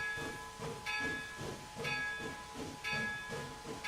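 A steam locomotive in a train video game hisses as its throttle opens, giving soft rhythmic chuffs of escaping steam, about two per second, over a faint steady whistle-like tone, fairly quiet with no talk.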